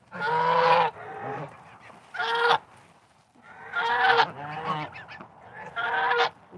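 A flock of geese honking in loud, close bursts of several calls each, separated by short quiet gaps.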